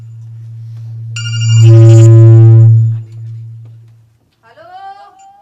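A telephone rings loudly in a skit staged for a church youth anniversary event, a sustained electronic ringing tone with harmonics that swells and cuts off after about three seconds, followed by a brief stretch of quiet and then faint speech.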